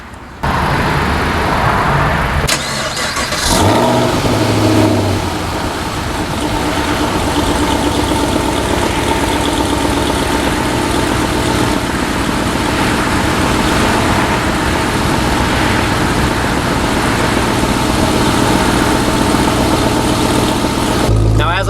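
A mostly stock Chevrolet SS with light exhaust work and a ram air intake cranks and fires on a dyno, then settles into a loud, steady idle that holds for about twenty seconds.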